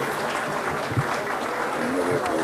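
An audience claps at a ceremony marking the 106th anniversary of Trabzon's liberation, a steady wash of applause with a voice speaking over it.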